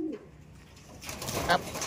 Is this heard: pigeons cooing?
yes